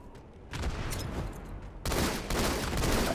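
Rapid gunfire in a competitive Halo match on the Lockdown map, dense bursts of automatic shots that intensify and grow louder partway through, continuous with no clear gaps.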